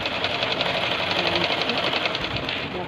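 A sewing machine runs steadily while stitching around the neckline of a suit, a close, continuous rapid whirring chatter with no pauses.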